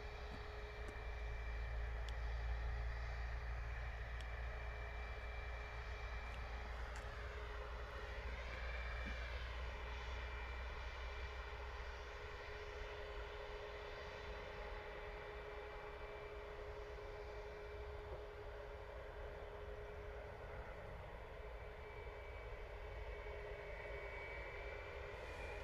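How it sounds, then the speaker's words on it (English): A TUI Boeing 737 MAX 8 climbs out overhead on departure from Bristol Airport, a loud sustained jet roar with a rising and falling whine that slowly fades as it passes. "TUI Boeing 737 MAX 8. Sounds like it might be a straight out departure heading out to Rhodes"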